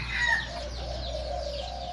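Young roosters and hens at a fighting-cock yard in Lom Kao, Phetchabun, Thailand, giving a sustained clucking call at moderate distance over a low background hum.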